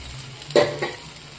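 Pointed gourd and sesame seeds hit a hot pan with a brief sizzling burst and a stirring scrape, followed by a softer second stir against a low hiss.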